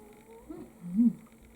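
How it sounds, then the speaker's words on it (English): An animal snores softly nearby, a low rumbling breath rising to a louder snort before fading. "Betty, you're snoring so loud, buddy."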